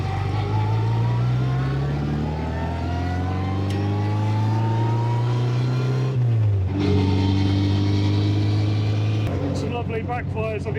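A 1959 Lotus Seven engine revs hard and climbs, drops sharply as the throttle closes with crackling backfires on the overrun, then pulls again; loud and close from on board.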